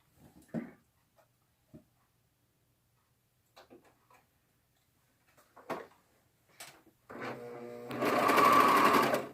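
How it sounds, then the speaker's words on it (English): A sewing machine stitching a seam on a knit skirt runs in a loud continuous burst near the end, after a few scattered soft clicks and handling knocks in a quiet room. "So while I'm sewing"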